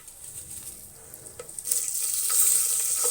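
Dried chilli and curry leaves hit hot oil for gongura pachadi, and the sizzle swells suddenly midway into a loud, bright, steady crackling hiss, close by, with no talking.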